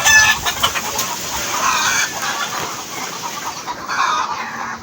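A coop full of chicks and hens clucking and peeping continuously, a dense, busy chatter of many birds close by.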